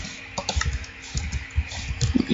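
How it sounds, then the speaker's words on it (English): Keys on a computer keyboard are tapped in a quick, uneven burst of close, crisp clicks, a short run of typing heard alone. "I'm typing diamond."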